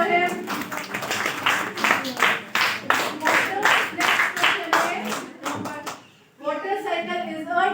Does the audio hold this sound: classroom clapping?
yes